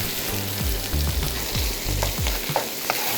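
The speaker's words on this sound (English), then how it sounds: "I might grab a little bit more oil, throw some egg in." An egg frying in oil in a pan, a close steady sizzle with stirring and scraping strokes as it is moved around, no talking heard.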